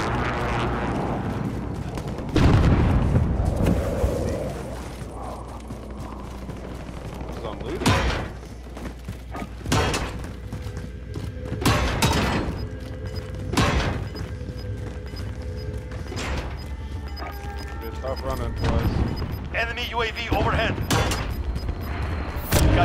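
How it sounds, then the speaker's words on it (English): Bursts of gunfire and explosive booms from a Call of Duty: Warzone match, sharp transients scattered across the stretch with heavy low rumble between, some distant and some closer, under voices on team chat. "sounds like they're shooting it out back there"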